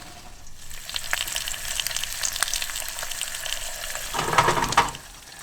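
Egg and bacon frying in a pan inside a camper van, a steady soft crackle and sizzle close by, swelling into a louder hiss and spit near the end, with no talking.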